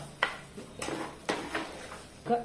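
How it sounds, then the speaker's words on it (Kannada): A lid lifted off a pan and soya chunk curry stirred: a few sharp metallic clinks and scrapes of spoon against pan, spaced irregularly, close and moderately loud with quiet between. "1 ನಿಮಿಷದ ನಂತರ ಮುಚ್ಚಳ ತೆಗೆದು ಇದನ್ನೊಮ್ಮೆ ಚೆನ್ನಾಗಿ ಇದನ್ನು ಮಗುಚಿಕೊಳ್ಳುವ"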